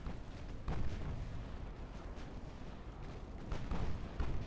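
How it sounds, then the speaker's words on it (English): Torpedo detonations in a naval warship battle game: dull, rumbling booms and bursts rolling through a dense, continuous battle din, with several heavier thuds over a few seconds and no voices. "Oh, torpedo detonation."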